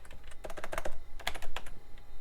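Keys clack on a 1990s Compaq desktop computer keyboard in quick irregular bursts of close, crisp keystrokes, with a brief pause midway before typing resumes.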